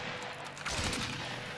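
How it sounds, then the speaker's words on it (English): Shotgun fire in a multiplayer survival video game, one blast in the middle of a dense, continuous wash of gunfire and game noise, with no voices over it. "Good shot with the shotgun, bro."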